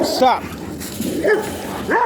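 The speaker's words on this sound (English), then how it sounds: "I'm standing by the dogs" Dogs bark and yip in short bursts near a rope, close and loud, with a person talking over them.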